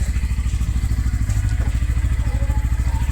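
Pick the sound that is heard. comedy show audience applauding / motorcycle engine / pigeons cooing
motorcycle engine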